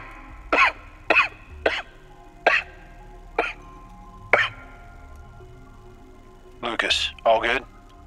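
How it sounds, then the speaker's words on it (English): A man coughs several times in a row, sharp separate bursts spaced about half a second apart, then a rougher cluster of coughs after a short pause, close and clear against a faint low hum. "He leans against the railing and coughs several times."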